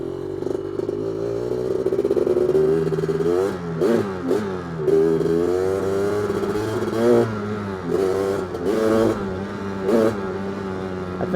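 A 1985 Honda 250R engine revs in first gear, its raspy buzz rising and falling through repeated throttle blips with clattering spikes, loud and close throughout.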